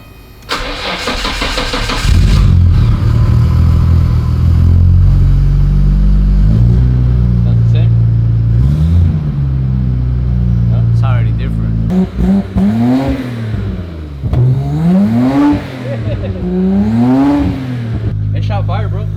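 A car engine cranks and catches, then roars loudly, revving up and down in repeated surges close by; it is a Nissan GT-R tuned to shoot flames from the exhaust.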